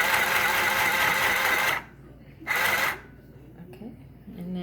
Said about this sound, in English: So when you're sewing, you just want to hold the 2 fabrics together.